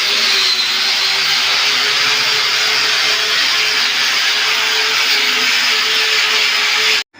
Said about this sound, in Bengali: এখন 2 ইঞ্চি ব্যান্ড পালিশ হচ্ছে